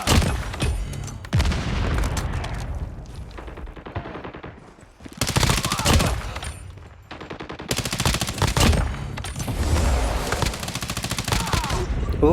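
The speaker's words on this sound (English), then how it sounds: "Ooh, shotgun." Video game gunfire from an FFA match with the Bal-27 and a shotgun, loud rapid bursts and heavy booming blasts clustering in several volleys up close, with a voice speaking over parts.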